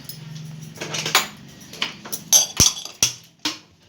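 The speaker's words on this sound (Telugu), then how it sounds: "ఇప్పుడైతే వేరే కడాయి తీసుకొని స్టవ్ ఆన్ చేసుకుందాం" A kadai pan clanks onto a kitchen stove amid several sharp metallic knocks and scrapes of cookware, close and irregular over about four seconds, with no talking.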